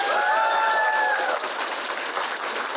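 Audience applause fills the room at a student lecture competition, a loud, dense roll of many hands clapping at once that holds steady and fades slightly, with a short whistle-like tone at the start.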